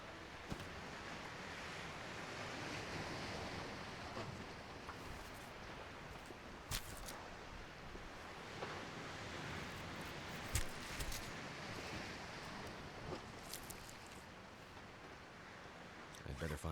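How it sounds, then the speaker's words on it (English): Steady outdoor wind and weather noise in The Long Dark survival video game, a constant roaring rush with gusty swells and a few sharp crunching steps or clicks scattered through it. "So noisy outside with the weather."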